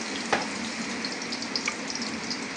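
Mussels frying in a pan, a bright continuous sizzle with a few sharp pops and light stirring scrapes, close and steady.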